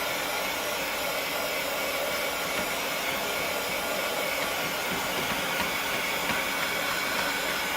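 A hair dryer blows a constant, even roar at close range, drying a painted card without pause and with no voices over it.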